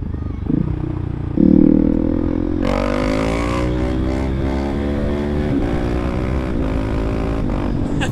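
A KTM SMC-R 690 single-cylinder motorcycle revs and pulls away, its engine note rising and climbing steadily through gears, close and loud with wind noise.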